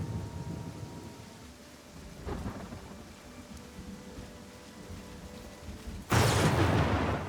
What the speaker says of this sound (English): This storm is crazy.